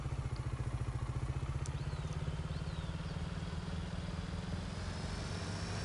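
A New Holland tractor in Farming Simulator 19 runs with a steady, rapid diesel chug, loud and continuous with no talk over it.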